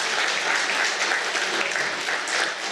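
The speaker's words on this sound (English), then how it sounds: "Let's continue to give her a big round of applause." A crowd at a teachers' union principals' seminar applauds steadily, dense clapping sustained throughout with no pauses.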